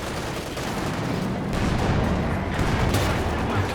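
Dense battlefield gunfire in Company of Heroes 2, an overlapping barrage of rifle and machine gun bursts with heavy booms, loud and continuous throughout.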